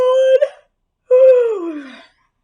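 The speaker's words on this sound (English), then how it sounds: "yawn." A person's voice in a vocal yawn, two drawn-out tonal sighs, the first short and steady, the second sliding downward and trailing off, loud and close.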